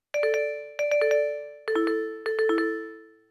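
Bright, bell-like vibraphone notes from a Casio SA-76 keyboard play short rising groups of three, each tone ringing and decaying, clear and close with no voices.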